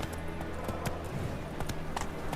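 Horse hooves galloping in The Witcher video game, a steady rhythmic clatter of hoofbeats running through the whole short stretch over a constant low background rumble.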